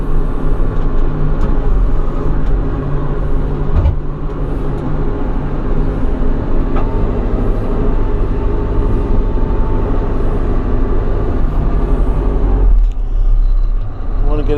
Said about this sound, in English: put it in first gear and forward